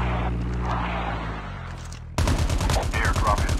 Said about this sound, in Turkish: Şu tarafta bir silah sesi alıyorum.